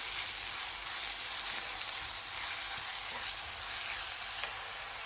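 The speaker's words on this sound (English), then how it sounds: "Heat up a 1/4 cup of oil over medium heat and add in 3 finely chopped medium onions. Sauté them until brilliantly translucent." Three finely chopped onions sauté in a quarter cup of oil over medium heat, giving a steady, close, even sizzle for several seconds. No talking or other sounds can be heard over it.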